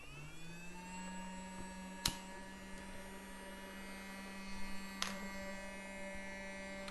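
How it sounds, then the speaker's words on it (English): Handheld kitchen smoking device running steadily to smoke tuna, a faint continuous electric hum and whir with two sharp clicks partway through. "I'm going to use a handheld smoking device"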